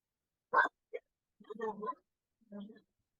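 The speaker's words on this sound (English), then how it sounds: "I know my dog's barking again." A dog barks in a few short, muffled bursts in a quiet room during an online tabletop role-playing game session, fairly faint and spaced out, with no speech.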